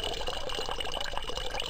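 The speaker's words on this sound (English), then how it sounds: "Why is that the sound effect for create water?" The create water spell effect in the Ravenloft: Stone Prophet computer game plays as a steady trickling, bubbling run of liquid. It is soft and continuous, with a faint hiss above it.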